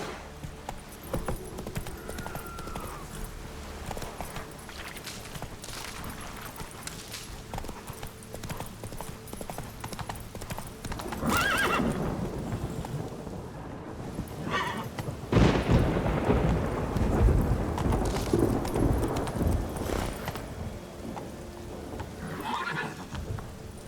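Horse hooves clop steadily at a gallop in the video game The Witcher 3: Wild Hunt, a close rhythmic beat mixed with a whinny and rumbling thunder and rain, getting louder in the second half.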